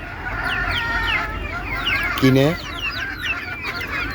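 Desi chickens clucking and a rooster crowing briefly in a farmyard, steady overlapping clucks under someone talking.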